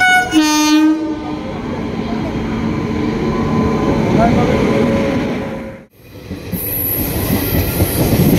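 Inside a moving passenger train: a loud horn sounds briefly at the start, then a steady, close rumble of wheels and carriage runs throughout, with a short dip before the clatter resumes.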